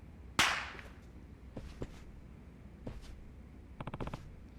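Firecrackers go off outside. One sharp loud crack comes first, followed by scattered fainter pops and a quick rattling burst of small bangs toward the end.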